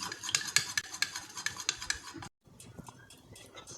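An egg whisked briskly in a bowl while making chicken shami kabab, a fast run of close clinking strokes that stops abruptly, followed by a few quieter scrapes.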